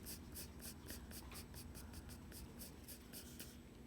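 A pencil shades lightly across paper with barely any pressure while filling in a value scale, giving a steady run of soft, rhythmic scratching strokes, close and continuous with no talking.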